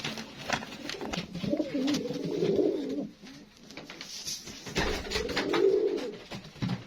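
Homing pigeons coo in two soft, throaty bursts a few seconds apart, close by and fairly quiet, with light rustling between them.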